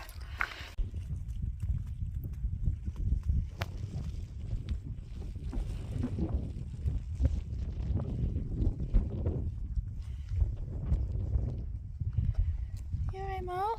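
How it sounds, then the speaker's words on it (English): Strong wind buffeting the microphone on a hillside walk up a mountain in North Wales, a continuous low roaring rumble with gusts throughout and a brief whistle-like sound near the end. "Jeez, it's a bit windy."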